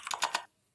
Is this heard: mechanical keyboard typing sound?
yes